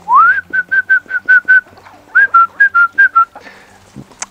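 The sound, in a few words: person whistling to call the hens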